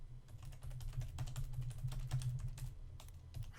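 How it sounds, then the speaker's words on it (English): Rapid, irregular clicking of keys being typed on a computer keyboard, fairly close and quiet over a low background hum, continuing throughout with no talking. "I like the sound of the typing."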